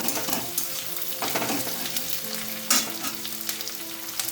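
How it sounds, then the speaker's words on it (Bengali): Green chillies sizzle steadily in hot oil in a pan for sambar dal, a close, continuous crackle with occasional scraping stirs and no voices. "কাঁচা লঙ্কা 4-5টা দিয়ে দিলাম"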